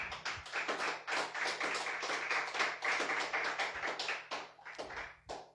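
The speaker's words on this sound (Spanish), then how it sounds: "Dele fuerte aplauso al Señor, hermano" A church congregation claps steadily in worship, a dense run of rhythmic hand claps close and fairly loud, thinning toward the end.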